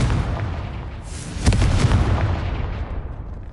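A Confringo fire blast spell explodes in Hogwarts Legacy, a deep booming burst midway through that rumbles over steady low background noise.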